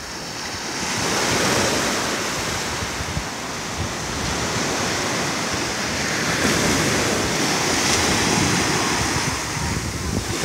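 Atlantic Ocean surf on Varadero beach in Cuba, a steady broadband wash of breaking waves with gusts of wind noise on the microphone, continuous and fairly loud throughout, no voices.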